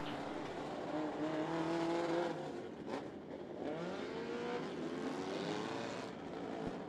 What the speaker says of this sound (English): 15 laps for the four-cylinder division